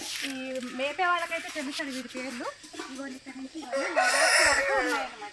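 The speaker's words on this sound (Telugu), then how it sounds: "మొత్తం కోళ్ళు కుక్కరోకో అని కోస్తానే ఉన్నాయి" Several roosters crow one after another nearby, with clucking hens and farmyard chatter around them.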